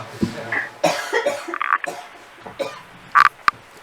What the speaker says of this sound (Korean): 제가 갑자기 왜 기침이 나와서 잠깐 기침해도 돼요?